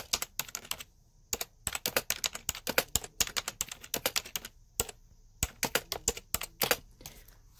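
Rapid keystrokes on a computer keyboard, typed in quick irregular bursts with short pauses, close and clear with no talking.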